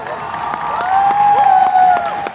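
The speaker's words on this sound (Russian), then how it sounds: "Что так все хлопает-то?" Crowd noise with scattered clapping and cheering from a large figure skating arena during a women's warm-up, a rising tone running through the middle, moderately loud and distant.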